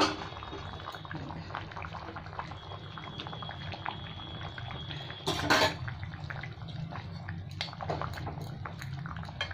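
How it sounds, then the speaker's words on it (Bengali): Rohu fish curry with potato and pointed gourd simmers in a pot, a steady close bubbling hiss running throughout with a brief louder burst of splashing midway. "এটা 1-2 মিনিট ফুটিয়ে নেব"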